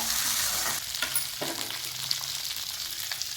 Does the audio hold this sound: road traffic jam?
no